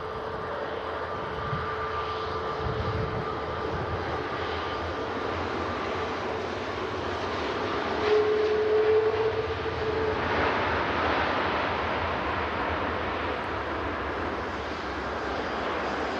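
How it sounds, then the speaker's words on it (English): A Virgin Atlantic Airbus A330 airliner lands at Manchester Airport, its engines a steady distant roar that swells briefly mid-way and then holds, with a faint tonal whine. "Oh my gosh, a Virgin Atlantic A330."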